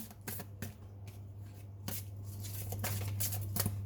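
Tarot cards are shuffled and drawn by hand in a quiet room, with repeated close riffling bursts and soft snaps at an uneven rhythm, no talk.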